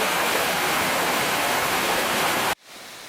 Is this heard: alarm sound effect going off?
no